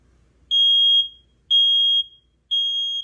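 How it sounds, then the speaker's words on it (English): Nest Protect smoke alarm sounding three loud, evenly spaced high-pitched beeps about a second apart, each lasting half a second, alone with no talk. "Smoke alarm silenced in the kitchen."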